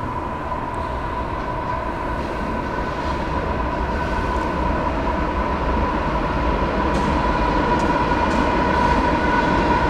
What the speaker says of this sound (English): No, that is mixed freight.